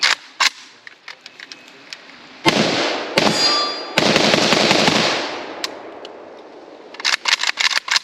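Rounds from a WBP AK-pattern rifle, a Polish entry-level import, fired across several magazines: sharp, loud, near cracks in quick bursts and strings, with a sustained roar and clanging in the middle before scattered shots trail off.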